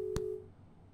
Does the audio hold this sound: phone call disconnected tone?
yes